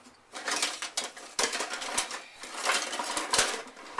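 A spoon stirs spices in a pan that held bacon, making a run of sharp metallic clinks and scrapes at an uneven rhythm, close and fairly loud.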